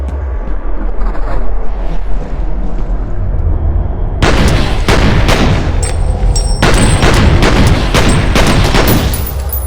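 Gunfire in the first-person shooter video game F.E.A.R. comes as loud, rapid bursts of shots and heavy booms, with repeated sharp reports dense and close over a rumbling background.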